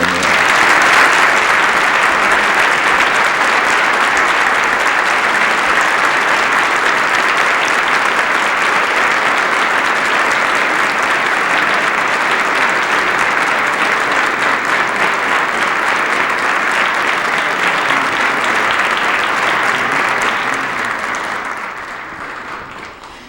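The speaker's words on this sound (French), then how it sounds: "je vous invite tous à les applaudir chaleureusement" Warm, sustained audience applause in a parliamentary hall during an Ordre national du Québec insignia ceremony, a loud even wash of clapping lasting over twenty seconds before tapering off.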